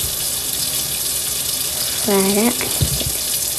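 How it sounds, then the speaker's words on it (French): Tap water runs into a sink during handwashing with soap, a steady close splash and hiss that continues throughout, with a brief voice and a few small clatters over it. "Donc là, je vais laver mes mains"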